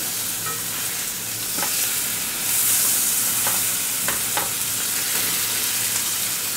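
An egg omelet sizzles and fries in a pan on a stove, a steady close crackle with a few sharp clicks of a utensil against the pan and no voices.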